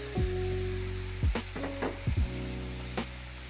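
Pasta sauce and petite diced tomatoes sizzle in a pan with a soft, constant frying hiss, while a few brief clanks and scrapes break in over a steady background hum.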